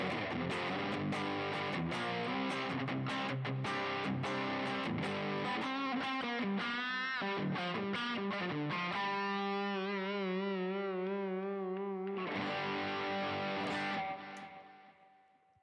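An electric guitar played through a RAT distortion pedal into a high-gain amp gives heavily distorted, saturated chords and notes, then long sustained tones that ring out and fade at the end; no voices.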